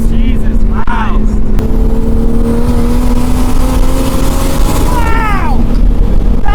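A 1JZ-swapped 1977 Toyota Celica liftback engine revs hard, a loud close drone climbing steadily in pitch with quick blips near the start and end, while people talk excitedly over it.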